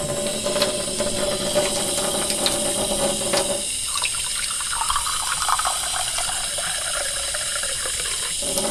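A kitchen sink tap runs water into a glass, a steady close hiss and splash whose tone shifts partway through as the glass fills.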